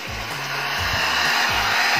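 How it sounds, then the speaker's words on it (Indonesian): Small hair dryer blowing steadily on a computer mainboard during repair, a loud continuous airy whoosh with a motor hum, held close and unbroken for the whole span. "Ini saya menggunakan pengering rambut, tapi tidak terlalu besar karena punyanya hanya ini."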